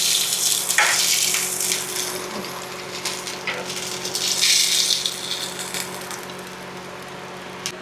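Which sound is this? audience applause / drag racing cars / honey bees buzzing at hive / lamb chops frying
lamb chops frying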